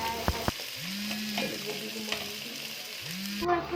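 Vegetables frying in a spoonful of oil with cumin seeds, a close steady sizzle broken by a couple of sharp utensil taps and rising scraping strokes as they are stirred, no talking.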